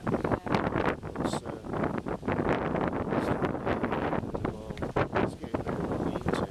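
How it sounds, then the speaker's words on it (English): Strong gusts of wind in Eyam, Derbyshire buffet the microphone, a continuous rough roar that rises and falls throughout. "getting very windy, isn't it?"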